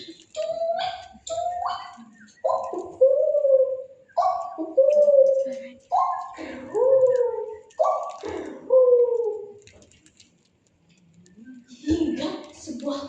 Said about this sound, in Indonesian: serta kicauan suara burung yang membuat suasana terasa lebih nyaman